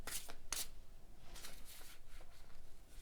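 Close, quiet riffling and sliding of a tarot deck being shuffled, with a few sharp bursts of cards snapping together and softer rustling between them.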